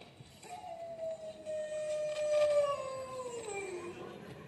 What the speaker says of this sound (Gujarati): અરે આ અડધી રાતે ગામની ગલીઓમાં કૂતરા કેમ રડી રહ્યા છે?